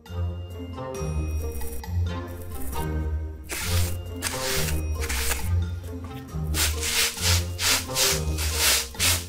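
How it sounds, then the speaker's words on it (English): A toy excavator scoops and drags through red sand, giving repeated gritty scraping and rustling strokes in a steady rhythm, close and fairly loud with no speech. "Now, let's drive our excavator to the red sand dune. Time to start digging."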